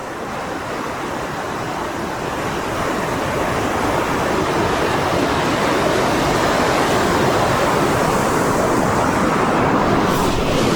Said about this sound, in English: Oh, it's a pretty windy day. We're sitting right here by Lake Michigan.